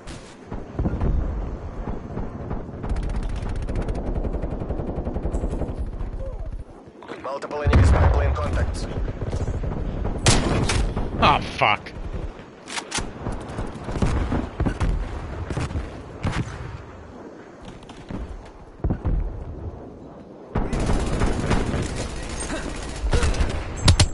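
Video game gunfire, loud bursts and rapid volleys of shots with heavy booming impacts, come in dense clusters separated by brief quieter gaps, with a voice speaking at times between them.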